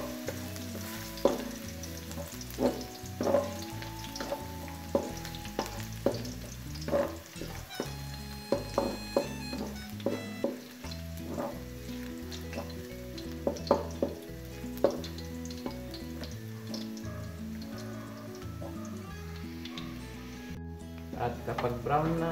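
Garlic sautéing in hot oil for pancit rice noodles, a steady sizzle under repeated clanks of a spatula against the pan, with background music and occasional talk mixed in.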